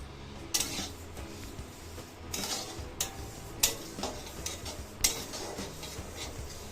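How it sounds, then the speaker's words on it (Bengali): White sesame seeds, about 100 grams, poured into a dish for protein ladoos: a soft continuous rustling patter broken by several sharp metallic clinks and taps, close and fairly quiet. "এবার ঢেলে দিচ্ছি সাদা তিল বা সেসমি সিডস"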